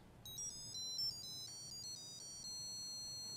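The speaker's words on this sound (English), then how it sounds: "There's a familiar phone ringer." A familiar phone ringtone beeped out by a small Adafruit noise-making gadget, a thin electronic trill repeating in quick bursts for about three seconds, faint and alone.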